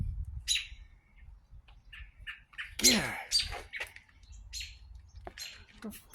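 An aggressive bird squawks and chirps repeatedly close by in a choppy, irregular stream of harsh calls, including one loud rasping squawk, while a person briefly mutters over a low background rumble.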